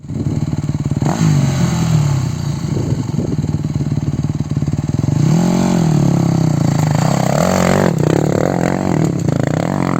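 An enduro motorcycle engine revs hard and loud close by on a rough trail, climbing and falling in pitch with rattling clatter throughout and no voices.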